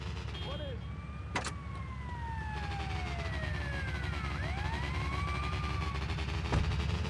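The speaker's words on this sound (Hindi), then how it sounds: "फायर ब्रिगेड आई है." A fire engine siren in GTA Vice City wails in long rising and falling sweeps, moderately distant, over a low rumbling game ambience with a couple of sharp clicks.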